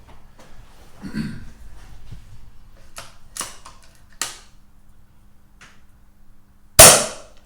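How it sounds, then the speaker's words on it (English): An air gun pellet shot fired through a SKAN Pro 1 Series 3 chronograph gives one sharp, loud crack near the end, preceded by a few quieter clicks and handling taps in a quiet room. "So that's our first shot."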